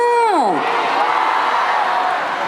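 Concert audience at a Pohang citizens' festival special concert roaring and shouting for an encore, a dense, loud, sustained wash of crowd noise following a brief falling voice at the start.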